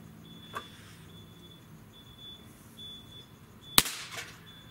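Barra Schofield .22 caliber pellet pistol fired with a faint early pop and one sharp, louder crack near the end, over a quiet background with a steady high whine.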